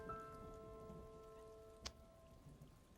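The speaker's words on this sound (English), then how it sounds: "It's raining today" Steady rain falls outdoors as a soft, even patter with a brief sharper drop sound partway through, alone and without voices.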